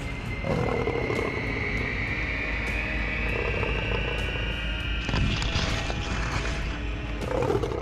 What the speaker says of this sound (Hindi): यह शायद तेंदुए की आवाज थी।